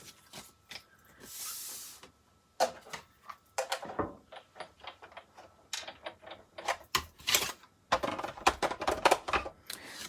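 Working near a Big Shot die-cutting machine to cut card for a step card, a series of sharp clicks, plastic clatter and brief hissy rustles, irregular and close, with no talk.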